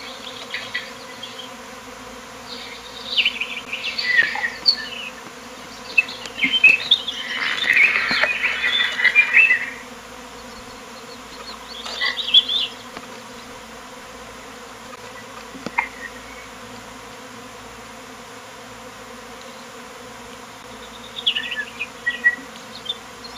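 A swarm of bees buzzes outdoors, swelling loud in several bursts and fading between them to a quieter hum over a steady background.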